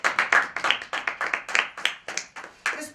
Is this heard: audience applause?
yes